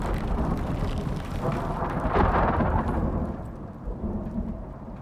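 In a video game, a thunderstorm sets a rumbling roll of thunder over steady rain that swells in the middle and then eases off, moderately loud with no voices.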